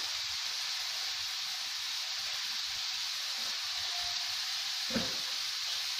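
Forty grams of butter melting in a pan for soufflé crêpes gives off a steady, even sizzling hiss that holds without a break, with one faint clink near the end and no voices.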